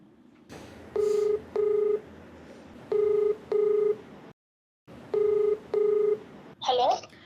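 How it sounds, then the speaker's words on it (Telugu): Touch-tone telephone keypad beeps while placing a call, paired short tones in a steady rhythm across several groups, clear and close, with a brief silence midway and a faint noise at the end. "నేను కాల్ చేస్తానండి."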